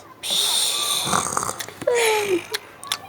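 A person asleep snores loudly in a bedroom, a rasping inhale followed by a snorting, wheezy exhale, close to the microphone with no talking.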